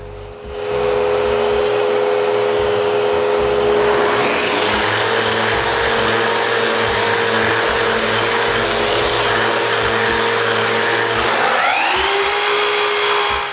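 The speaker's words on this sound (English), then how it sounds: "We finish the sanding with the 120 grit" Power sander working interior door wood with 120 grit, a loud steady whine that shifts pitch as it bears down, then drops and winds up again near the end.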